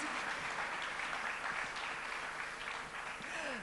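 Audience at a literature prize ceremony applauds a judge walking up to the stage, a soft, fairly distant wash of clapping that holds steady throughout.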